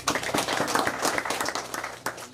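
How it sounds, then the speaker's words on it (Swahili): A church congregation claps their hands in a brisk, uneven burst of many palms, loud and close, lasting a couple of seconds with no speech over it. "Pige makofi."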